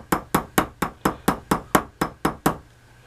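A hammer peening a pin while straightening a razor, ten sharp, evenly spaced metallic taps in a steady rhythm, close and loud, stopping abruptly.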